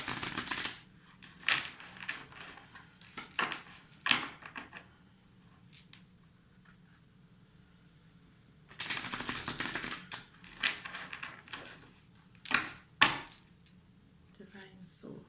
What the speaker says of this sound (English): I'm just going to give these cards a shuffle